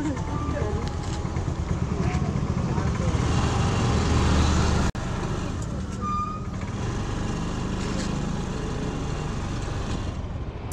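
A rented scooter rides through traffic on Havelock Island toward the beach, its engine buzzing under continuous road noise and passing vehicles, with a brief dropout midway before the steady rumble resumes.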